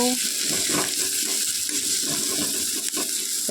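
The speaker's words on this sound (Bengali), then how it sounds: "পেঁয়াজটা ভাজি হয়ে যাক" Onion frying in a little oil in a pan, giving a steady bubbling sizzle close by with soft, irregular crackles and no talk.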